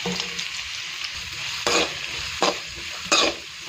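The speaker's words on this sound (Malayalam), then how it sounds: "ഇനി അതിലേക്ക് രണ്ട് സവോളയും ഒരു അഞ്ചാറ് വെളുത്തുള്ളി ഒരു ചെറിയ ഇഞ്ചിൻ്റെ അരിയിൽ ചേർത്ത് കൊടുക്കാം" Chopped onions, garlic and ginger sauté in hot oil for a beef vindaloo, a soft steady sizzle broken by three sharp bursts of stirring and scraping at close range.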